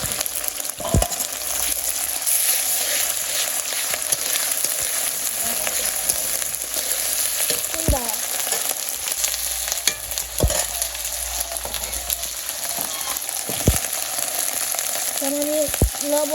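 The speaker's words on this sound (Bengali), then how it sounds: "লবণ হলুদ কষিয়ে নিলাম।" Ginger, garlic and onion paste frying with salt and turmeric in a village kitchen, a steady close sizzle with repeated stirring scrapes and occasional sharp clinks of the spatula.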